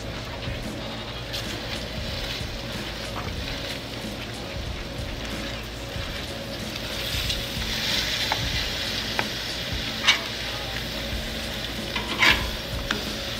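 Steak fries crackle on a hot Blackstone griddle, a continuous even sizzle with a spatula tossing them, bringing a few brief scrapes and a louder swell of hiss partway through.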